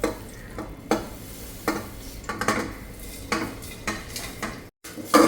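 Spices being fried in ghee in a cooker pot for mutton rib bone soup, with repeated scraping strokes of a spoon against the metal pot over a soft continuous sizzle, close and intermittent.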